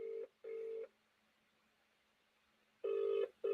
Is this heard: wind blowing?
no